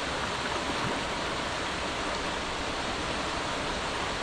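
A shallow river flows over its bed in the countryside, a steady broadband rushing of water close by, continuous and even with no voices.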